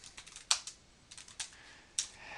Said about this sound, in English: And I'll type in the question.